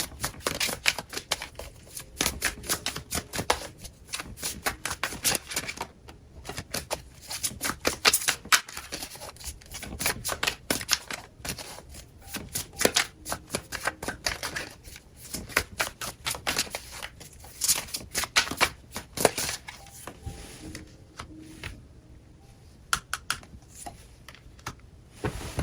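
A tarot deck shuffled and handled at length, producing close, busy clicking and riffling textures in irregular bursts that continue for the whole stretch, with no voices.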